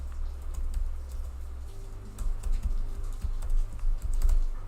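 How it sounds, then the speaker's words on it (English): Rapid keystrokes clatter on a computer keyboard while an nmap network-scan command is entered, a close, steady run of clicks alone in a quiet room with a low hum underneath. "So type in this command, nmap space,"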